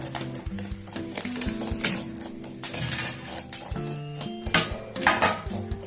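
Dry chickpeas (chana) roasting in a hot pan without salt or oil for making sattu, with a continuous rattling clatter of grains against metal and scattered sharp little pops and clinks, close up, no talking.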